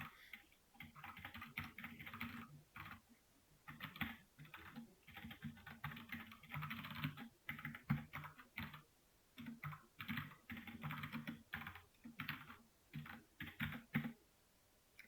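Quick, irregular keystrokes on a computer keyboard type out Python code in bursts with short pauses, close and fairly quiet, no voices.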